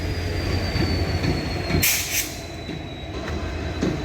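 A short local passenger train rolls past nearby at Subrahmanya Road railway station with a steady rumble, a sharp burst of wheel squeal in the middle, and rhythmic clatter of railcars.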